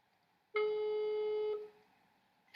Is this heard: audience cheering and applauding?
no